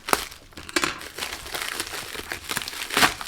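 A cardboard package box from a nail-product order being cut open: close, intermittent crinkling and scraping bursts, with a sharper rustle near the start and another near the end.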